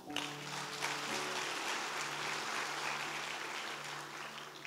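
A church congregation claps together in a steady, dense wash of applause that fills the space and runs unbroken throughout.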